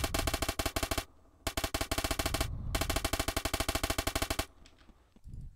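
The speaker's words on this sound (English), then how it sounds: "It's an SMG, and it's silenced, so it should be a lot quieter." A silenced STA-11 submachine gun fires in a video game in three rapid automatic bursts of sharp, evenly spaced shots with brief gaps between them, followed by a faint tail.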